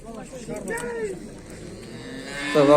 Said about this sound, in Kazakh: Бақырат ғой.